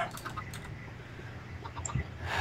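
Chicken clucking in a Minecraft game, a few short close clucks scattered over a couple of seconds against quiet game ambience.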